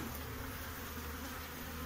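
Honeybees buzz steadily around overwintered backup hive colonies near Brno, a dense, close, continuous hum with no voices heard.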